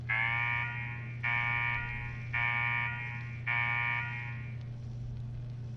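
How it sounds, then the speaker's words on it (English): A blaring electronic alarm in the video game Fallout 4 sounds four times in steady, evenly spaced bursts of about a second each over a constant low hum, loud and close, with no talking. "What the hell is that alarm?"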